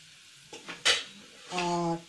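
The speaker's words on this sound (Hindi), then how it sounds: "ग्रेवी में उबाल आ गया है, अब इसमें हम बैंगन को डाल देते हैं" Fried eggplant tipped into boiling gravy in a pan, a few quick clinks and scrapes followed by a short burst of sizzling, close and fairly quiet.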